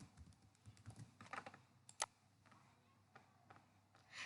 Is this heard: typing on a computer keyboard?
yes